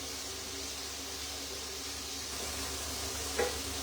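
Spring onions and garlic sautéing in a pan make a soft, even sizzle and hiss, fairly quiet and steady, with one small clink of utensil against the pan near the end.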